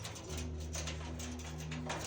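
Pet cockatiels and other small birds calling and cooing indoors, soft steady chirps and coos running throughout against a low constant hum.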